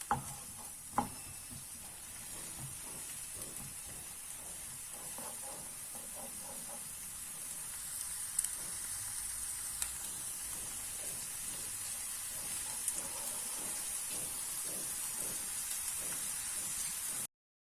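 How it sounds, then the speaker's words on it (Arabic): Chopped onions sizzling in a little olive oil in a pan, with a steady hiss that runs throughout and occasional soft clinks and stirring sounds, and no talking. "غادي نشحر البصل ديالنا مزيان"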